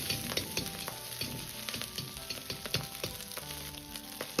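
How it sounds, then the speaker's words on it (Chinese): Diced meat stir-fried in hot vegetable oil in a wok, with busy crackling sizzle and spatters, alongside intermittent scraping and clanking of the utensil against the pan, close and continuous. "接着下入切好的肉丁煸炒"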